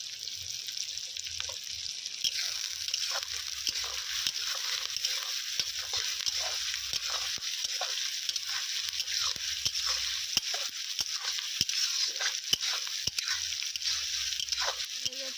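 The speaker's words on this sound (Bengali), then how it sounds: "পেঁয়াজগুলো তাড়াতাড়ি ভাজার জন্য অল্প পরিমাণে লবণ দিয়ে দেবো" Chopped onions with a little salt frying in oil, a continuous soft sizzle with frequent small pops and occasional stirring scrapes close by.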